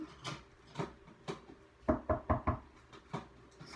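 A person knocks on a hard surface to get a dog's attention: scattered single knocks, then a quick run of four or five sharp raps, fairly close and moderately loud, with no voices.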